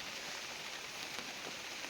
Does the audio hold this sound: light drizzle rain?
yes